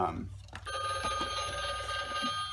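A Simpsons novelty telephone with Homer in his recliner rings with a tinny, repeating electronic bell, close and fairly loud, while a voice talks over it.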